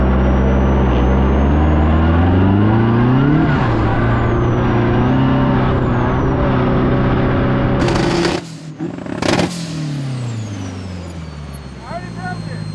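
Sand car engine revving hard under high boost with its tire spinning, a loud close rising roar that climbs through gears, then a sharp break and a drop to a rougher, quieter idle near the end.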